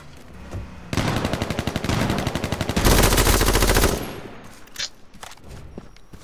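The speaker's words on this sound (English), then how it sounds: "We got dudes out here shooting." Rapid automatic gunfire from players in the battle royale video game H1Z1, two long bursts of fast repeating shots, loud and close, followed by a few scattered distant shots and quieter movement.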